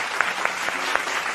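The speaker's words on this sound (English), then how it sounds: "Clap your hands." Nursery children in a classroom clap their hands, a soft rapid patter of several small claps close by.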